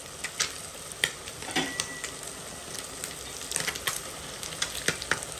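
Peas frying and being stirred in a pan while salt goes in: a steady crackling sizzle broken by sharp scraping clicks from the spoon, close by, with no talk.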